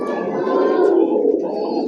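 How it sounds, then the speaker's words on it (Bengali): A pair of Bombay pigeons coo at close range, a steady, continuous throaty murmur running through the short stretch without a break. "পায়রার ডাকটা দেখেন দেখার মতো, এক পেয়ার বোম্বাই"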